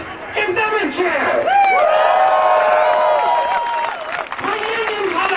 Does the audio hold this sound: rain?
no